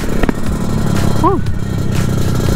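A 1991 Yamaha RXZ two-stroke motorcycle engine runs close by, a loud rough buzzing idle with crackly pulses, briefly cut by a short squeaky chirp midway.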